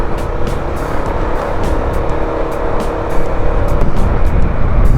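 A car overtakes in road traffic, its engine and tyre roar loud and close, swelling steadily as it pulls past other vehicles.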